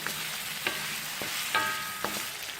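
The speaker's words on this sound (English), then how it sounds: "we need to cook this tomato until it becomes soft and mushy." Chopped tomato pieces cook in a hot pan, giving a steady close sizzle broken by a few sharp clinks and scrapes of a utensil against the pan.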